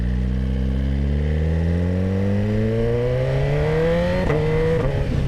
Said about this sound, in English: That quick shifter is crispy